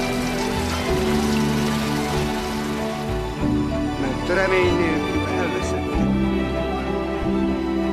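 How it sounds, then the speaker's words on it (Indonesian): Steady rain pours down, a dense constant hiss with music or low tones underneath throughout. "di bawah guyuran hujan"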